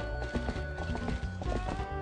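Horse hooves clip-clop in steady rhythm while riding in Zelda: Twilight Princess, set within a busy, dense game soundscape.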